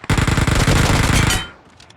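Rapid automatic gunfire, likely from an M4 or a 100-round gun, sprays nonstop in a video game for about a second and a half before cutting off into a faint tail.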